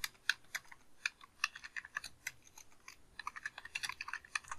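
VBA code typed on a computer keyboard, crisp close keystrokes in quick uneven bursts with brief gaps, quiet overall.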